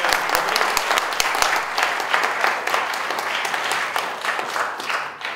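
An audience at a panel discussion with a filmmaker applauds steadily, a dense, close, sustained wash of many hands clapping that tapers slightly at the end.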